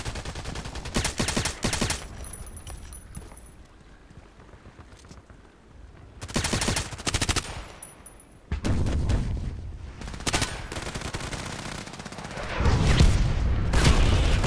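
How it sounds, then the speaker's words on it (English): Gunfire in the first-person shooter Contract Wars: repeated bursts of rapid automatic shots, some loud and near, others more distant, separated by quieter stretches, with a heavy sustained volley toward the end. "He's shooting in my direction."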